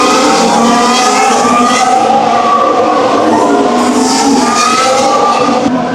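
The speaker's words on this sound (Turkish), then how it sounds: "Sürekli bir araba geçiyor önümüzden." Formula 1 cars scream past trackside at the Abu Dhabi Grand Prix, a loud, unbroken wall of high engine whine as several cars pass in close succession, pitches sweeping and overlapping.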